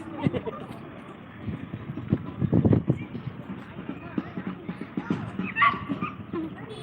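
Dog barks and yips ring out in a rural village during a church outreach, several short sharp calls mixed with people talking nearby, some close and some a little farther off.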